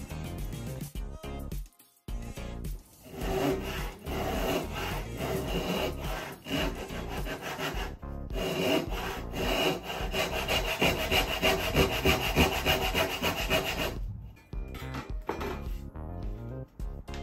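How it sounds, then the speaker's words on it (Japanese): A hand saw cuts grooves into wood while carving a Japanese tengu mask, with steady back-and-forth rasping strokes, close and continuous, pausing briefly a couple of times. "まず縦型の形までノコギリで溝を入れます。"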